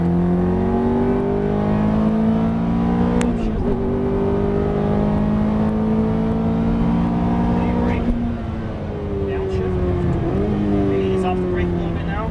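A Ferrari F430 engine drones loudly on a race track, easing off and climbing back up in pitch as it accelerates out of corners, with a voice talking over it.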